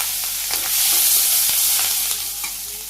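Chopped onion fries in hot oil with cumin, making a loud, continuous close sizzle broken by a few faint stirring clicks.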